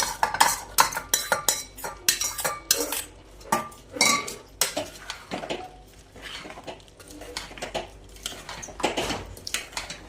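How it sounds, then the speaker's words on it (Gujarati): Chopped onion tipped into a pan of potatoes for a potato and onion curry, with loud close clattering of a metal spoon scraping and knocking against the pan in quick irregular bursts. "હવે આ સમારીને રાખેલી ડુંગળી ઉમેરી દઈશું."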